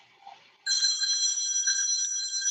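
A telephone rings during a yoga class, a steady, loud electronic trill that starts abruptly after faint background noise and continues unbroken to the end.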